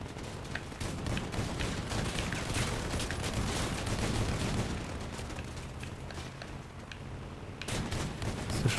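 Dense, continuous vehicle-mounted weapon fire in the car-combat game Crossout, a steady barrage of overlapping shots and blasts with occasional louder bursts, no talking.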